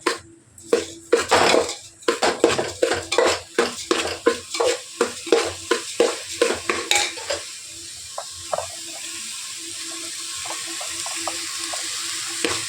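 A spoon scrapes around a pot of biryani in a quick, even rhythm of about twenty close strokes. The stirring then stops, leaving a soft, steady simmering hiss.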